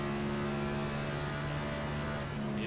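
A next-gen NASCAR-style race car in the iRacing video game at Homestead Miami, its engine droning steadily with a tonal hum that shifts slightly as the driver comes off the throttle near the end.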